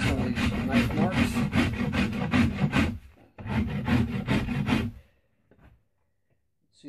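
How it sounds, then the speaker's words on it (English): Rasp and scraper work along the belly of a yew bowstave, a close, loud, rhythmic series of rough strokes in two bursts separated by a short pause, then near silence with a few faint scrapes. "I'm just going to continue rasping and scraping."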